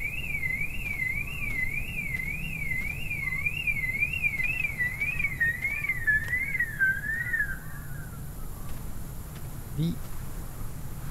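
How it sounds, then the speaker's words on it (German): Alarm system in the horror game They Are Here, a warbling, siren-like tone rising and falling rapidly and steadily before fading out, heard over a low hum. "Die Alarmanlage ist noch an."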